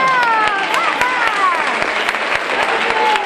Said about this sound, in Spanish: Fortísimo aplauso para ella.